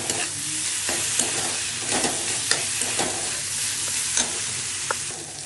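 Prawns and whole moong stir-fried with spices and cream, a loud steady sizzle broken by repeated scraping spatula strokes against the pan at an uneven rhythm.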